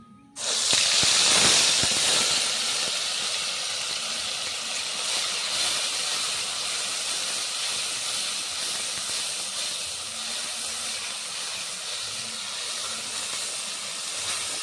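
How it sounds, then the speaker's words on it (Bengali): Loud, steady sizzling and hissing of onion, tomato, ginger and garlic paste frying in hot oil, starting abruptly and continuing throughout with no talking. "তেলটা গরম হয়ে গেছে ওই তেলের মধ্যে দিয়ে দিচ্ছি একসঙ্গে পেঁয়াজ টমেটো আদা রসুন পেস্ট করাটা"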